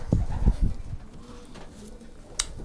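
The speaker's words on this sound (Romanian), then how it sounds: "Am porumbel care merge și la maraton" Short cooing of a racing pigeon at close range, a few soft low coos clustered near the start followed by quieter background sounds.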